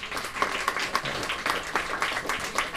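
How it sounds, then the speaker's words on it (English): An audience applauds at a Mind Sports Olympiad event, a steady spread of clapping with soft rhythmic peaks, moderately distant and not very loud, for two competitors being congratulated. "Another round of applause for Ricardo and Andres, please."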